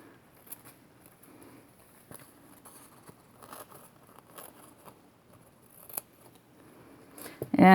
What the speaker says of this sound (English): So then I'll take my napkin